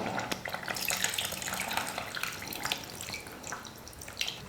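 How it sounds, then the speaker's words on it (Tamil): Tamarind water poured into a pot of simmering radish sambar, a steady close splashing trickle that runs continuously without pause. "அந்த புளி கரைசலை ஊற்றிக்கலாம்."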